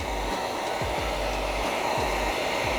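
Heat gun blowing hot air while tacking down chrome delete vinyl film on the front grille of a 2022-2024 Volkswagen Tiguan, a loud, steady close-up whir with slight flutter, alone.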